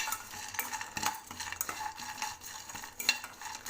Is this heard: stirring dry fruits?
yes